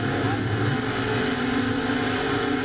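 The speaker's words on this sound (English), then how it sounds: "now she downshifts in the third gear at that point of the track" A race car engine drones loudly and steadily in a racing video game, a dense sustained roar with little change in pitch and no clear break for a gear change.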